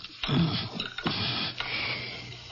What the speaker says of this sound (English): Now I place these leaves into the mortar and grind them up.